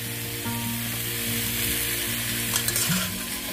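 Crispy pork with holy basil stir-fried dry in a hot pan, a constant sizzle with spatula scrapes and clinks near the end, close and steady with no voices.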